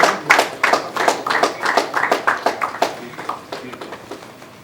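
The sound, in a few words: audience applause at press conference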